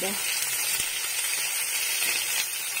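Grated garlic and ginger frying in a pan for adobong kangkong, a steady close sizzle with broad hiss running evenly throughout, no talk over it.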